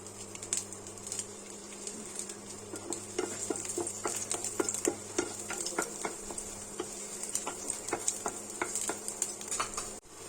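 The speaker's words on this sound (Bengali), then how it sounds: "এবার এর মধ্যে আমি একটু রসুন কুচি দিয়ে দেবো" Chopped garlic sizzles in soybean oil in a pan while a spoon stirs and scrapes, with crackling pops and frequent clinks of the utensil against the pan, close and continuous.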